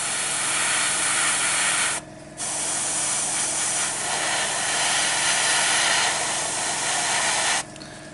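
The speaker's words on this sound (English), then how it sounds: "pulling the trigger down less than half of its full" An airbrush run at 25 to 30 psi sprays paint onto a Warhammer 40K vehicle model, giving a loud, steady broadband hiss that stops briefly twice, near and alone.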